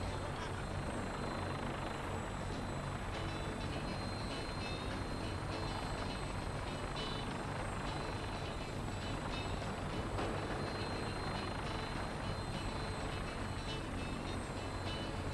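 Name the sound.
gunship helicopter flying in Fallout 4 video game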